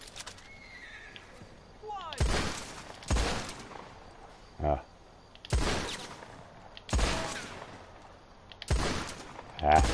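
Gunshots in Red Dead Online, five loud sharp reports with echoing tails at irregular intervals, while a horse whinnies and voices talk in the background.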